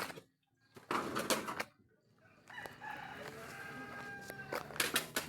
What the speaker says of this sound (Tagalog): Ayan, maraming manok.